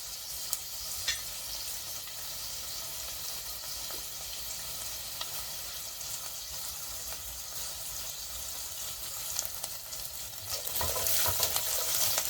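Onion, green chilli and curry leaves fry in a pan for vermicelli upma, a steady close sizzle throughout with occasional stirring clicks and a louder burst of crackling near the end; no talking.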